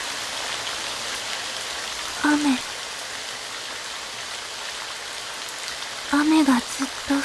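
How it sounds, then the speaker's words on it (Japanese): Rain falls steadily in the video game Heaven Burns Red, a constant soft hiss of drops on a surface, with a voice briefly speaking twice over it. "雨がずっと降り続けてる。"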